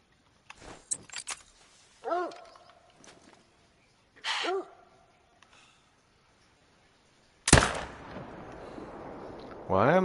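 Rifle shots ring out in theHunter: Call of the Wild, a few sharp reports spaced several seconds apart, the last one loud and booming with a long echoing tail, mixed with scattered game sounds and brief voices.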